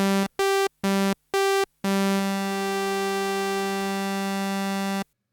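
A Korg DSS-1 digital synthesizer plays a buzzy, harmonically rich tone from two oscillators tuned an octave apart: four short staccato notes in a row, then one long sustained note of about three seconds that cuts off cleanly.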